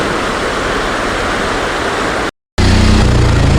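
Stream water rushes steadily over a small check dam, a loud continuous broadband roar that cuts out briefly before resuming.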